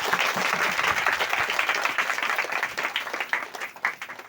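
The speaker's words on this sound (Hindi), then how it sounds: "जोरदार ताली बजाएं।" A church congregation bursts into loud, sustained applause during a Hindi worship sermon, dense clapping that swells at first and then thins into ragged, uneven claps toward the end.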